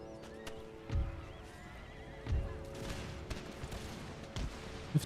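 Cavalry horses in the battle game Empire: Total War neigh and whinny during a fight, with a few sharp whinnies rising over a low battlefield rumble and occasional hoof clatter.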